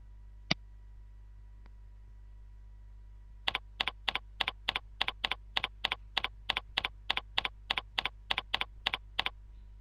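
Typing on a computer keyboard while entering an incoming mail server name: one isolated click, then a steady run of about twenty evenly spaced keystrokes, close and crisp over a low hum.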